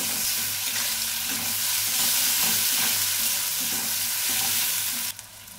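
Onion with salt and tomato frying in a pan for a Bengali mixed-vegetable dish: a steady, loud, close sizzle with occasional stirring scrapes that cuts off abruptly near the end.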